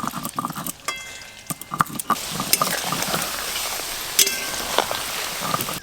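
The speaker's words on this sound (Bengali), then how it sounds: "আলুগুলো লাল লাল করে ভাজা হয়ে গেছে" Potatoes fry in a pan for Kashmiri alur dom, giving a steady crackling sizzle punctuated by clattering stirring strokes and spatula knocks, close and moderately loud.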